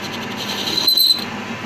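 A lathe turns metal with an SCLCR1212H09 turning tool, giving a short, steady scraping cut that swells for a moment and then fades over a constant background hum.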